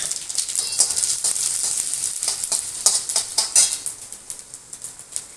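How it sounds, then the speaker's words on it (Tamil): Mustard seeds and dal crackle and sizzle in hot oil, a steady bright frying hiss broken by sharp popping bursts that grow more distinct toward the end, with no talking. "கடுகு தம்பருப்பு போட்டுக்கலாம்."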